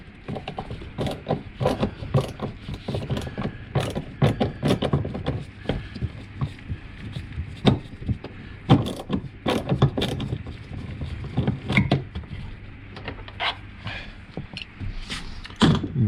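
Screwdriver turning hidden Phillips screws on a Lexus CT200h rear door panel, close irregular clicks, scrapes and small knocks continuing throughout.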